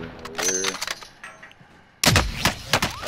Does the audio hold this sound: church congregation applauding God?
no